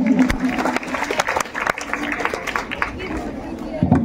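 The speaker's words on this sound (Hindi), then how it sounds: "और एक बार जोरदार तालियां हो जाए बच्चे के लिए" A crowd at a student result ceremony claps loudly, uneven sharp claps mixed with murmuring chatter and babble, fairly close and lively throughout.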